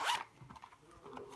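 A coral-orange zipper with a small branded pull on a textured Ipsy makeup bag gives one brief, soft zip at the start, followed by quiet rustling.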